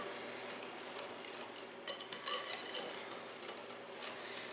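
Coffee is whisked into chocolate olive oil cake batter, a soft steady swishing and light tapping of a whisk against the bowl, faint and close.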